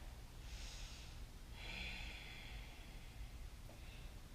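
A faint, airy yoga breath, two soft breathy draws in quick succession and a lighter one at the end, close but quiet over a low hum.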